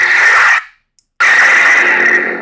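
A custom etched lightsaber fitted with CFX and Neopixel blade hums loudly, cuts out with a retraction into brief silence, then ignites again and carries on with a bright sustained hum.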